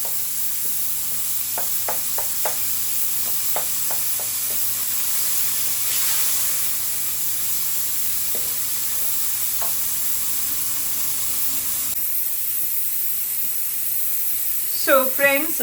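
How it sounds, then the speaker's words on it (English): Tomatoes, ginger and onions sizzle and fry steadily in a pan, a continuous close hiss with a few light stirring scrapes and brief clinks; the sound shifts partway through and ends with a short burst of higher clatter. "I'm going to add the tomatoes to it. And cook them to a nice paste."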